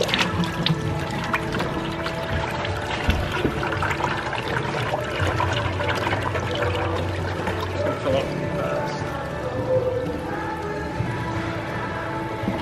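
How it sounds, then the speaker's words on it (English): Water gushes steadily from an opened valve into a 5-gallon bucket on a large natural farm, a continuous close pour with a constant level throughout and no talking. "you can open the valve and start taking your 5 gallons"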